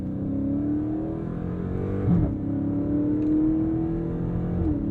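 A 2023 Chrysler 300C in track drive mode pulls hard, its engine droning with a rising pitch close by. The acceleration holds steady for about five seconds, with a brief thump partway through.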